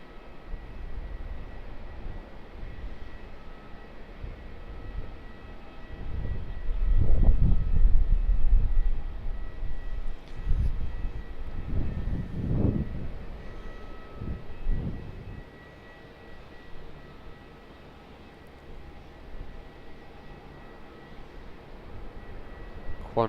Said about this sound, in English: Qantas 737-800 coming in from Perth as Qantas 772.